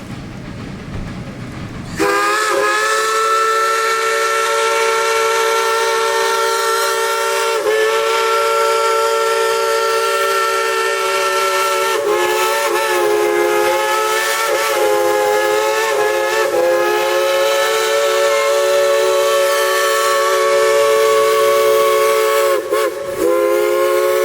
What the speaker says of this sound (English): All right, here comes the Heisler.